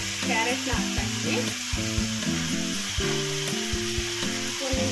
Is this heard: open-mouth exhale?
no